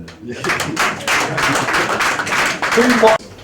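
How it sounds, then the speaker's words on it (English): Audience applause at a press event with a boxer speaking about sports politics in Nigeria: a short burst of scattered, moderately loud hand claps lasting about three seconds, cutting off abruptly at the end, with voices mixed in. "Go ahead and clap."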